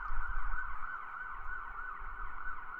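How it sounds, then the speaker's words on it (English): A steady, wailing emergency siren holds a sustained tone at moderate distance, fairly loud and unbroken over low rumble, with no voices. "The sirens become more distant."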